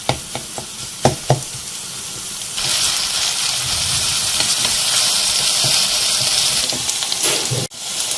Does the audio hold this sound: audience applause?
no